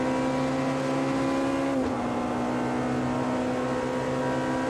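Race car in Automobilista 2 at a 24 Hours of Le Mans setting accelerating hard, a loud steady engine drone with a brief gear-change dip, then continuing to pull strongly, with no talking.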